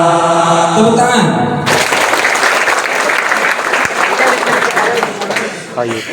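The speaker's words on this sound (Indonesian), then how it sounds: "Tepuk tangan." After a sung passage ends, loud sustained applause from a large gathered crowd at a ceremonial oath event in a pesantren, dense clapping that continues for several seconds before tapering slightly.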